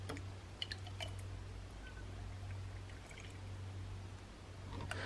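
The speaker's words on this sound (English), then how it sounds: "we're going to start off by putting the 100 millilitres of milk up to that minimum line" Milk pours in a soft, quiet trickle into a Nespresso Barista frother jug, with a few faint drips and small clinks near the start and end.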